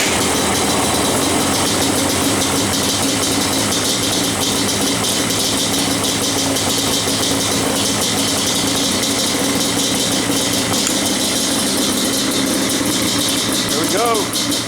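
A Yamaha Banshee ATV with a repaired plugged pilot jet runs loud and close, both exhaust pipes blowing, giving a steady, dense rumble and rattle that continues unbroken the whole time.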